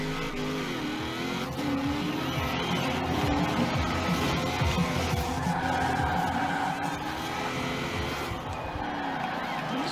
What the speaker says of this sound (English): I should start employing the handbrake.